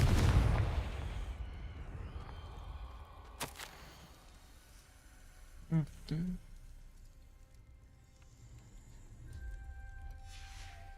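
A Confringo fire spell goes off in the video game Hogwarts Legacy, a short burst of two quick explosive pops midway through, set against a low ambient rumble and a softer swell near the start.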